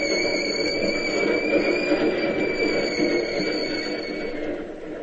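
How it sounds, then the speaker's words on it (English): An electric Key System commuter train rumbles past on a bridge at a constant level, with a thin, steady high-pitched whine running over the low roar. "Sure, one of the key system trains."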